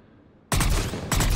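Valkyrie assault rifle gunfire from Mass Effect 3, two loud, sharp bursts close up, the first kicking in abruptly after near silence and a second following about half a second later.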